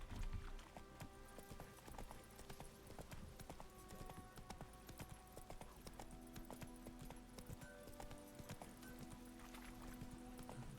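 Roach the horse gallops in The Witcher 3, its hooves clip-clopping in a quick, steady rhythm that continues for the whole stretch against a soft game backdrop.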